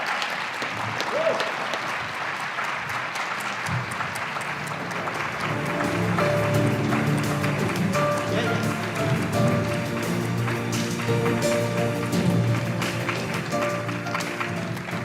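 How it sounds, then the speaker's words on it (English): Audience applause at a satellite industry awards luncheon, a sustained, fairly loud round of clapping from a roomful of people that swells slightly midway, with faint voices underneath. "I think we should have another round of applause for both Astroscale and Tina"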